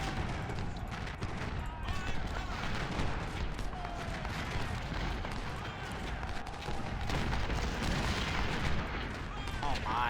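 Artillery in a tactical strategy battle game booms repeatedly along the line, a dense, continuous rumble of distant gunfire and explosions with someone talking over it.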